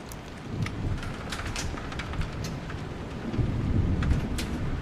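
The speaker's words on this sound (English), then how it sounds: "We're going to try driving in the rain." Heavy rain hisses and patters continuously in the video game Vein while low thunder rumbles underneath and builds toward the end, with no voices.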